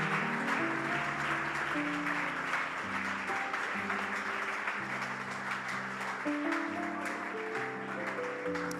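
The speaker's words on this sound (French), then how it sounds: "Acclamons très fort les seigneurs" A church congregation applauds and cheers the Lord, sustained clapping and crowd noise under music with held organ-like tones throughout.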